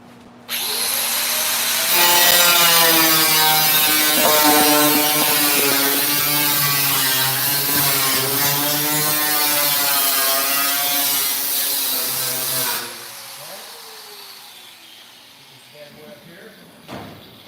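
A power saw makes a first cut through wood, a loud steady whine running for about eleven seconds before stopping abruptly, with people talking faintly around it.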